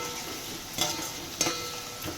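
Okra (bhindi) fries in oil with a continuous close sizzle and hiss, broken by a couple of soft stirring knocks.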